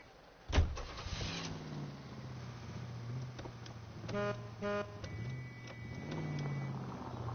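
A car in the video game L.A. Noire starts up with a sharp thump and then pulls away, its engine humming at moderate level and rising briefly as it drives off.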